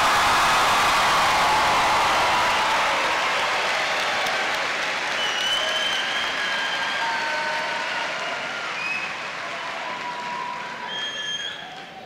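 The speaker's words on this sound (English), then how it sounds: "Give yourselves a round of applause." A large crowd at a 2018 high school graduation ceremony applauds and cheers, the clapping loud at first and gradually thinning and fading, with a few whistles and shouts rising above it.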